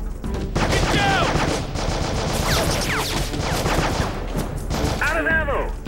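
Heavy automatic gunfire and rapid shots from the video game Heavy Fire Afghanistan, a loud continuous barrage with dense overlapping bursts for the whole stretch, with shouted radio-style voices mixed in.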